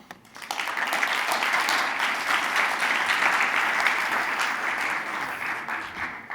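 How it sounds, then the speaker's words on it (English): Steady audience applause at a smart building industry conference after a talk, a dense wash of many hands clapping that swells quickly and holds loud and even to the end. "You're the first person to get a clapping ovation in the middle of your speech today"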